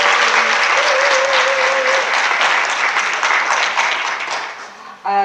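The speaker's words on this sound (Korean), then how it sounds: "박수 부탁드립니다" A forum audience claps warmly at an international education forum session, a steady loud round of applause with a faint tone early on, fading near the end before a voice cuts in.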